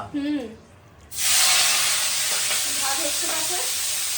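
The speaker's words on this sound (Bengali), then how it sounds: "আলু পেঁয়াজ কলি ভাজা হচ্ছে" Potatoes and onion stalks fry in a pan with a loud, steady sizzle that starts after about a second and continues to the end, with faint voices and stirring heard over it.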